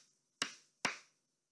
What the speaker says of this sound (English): Let me make one more clap.